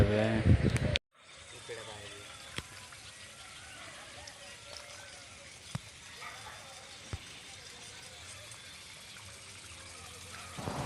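Water from a borewell flowing into a peanut field, a steady moderate rushing trickle after a brief loud burst at the start, with a few faint clicks over the continuous flow.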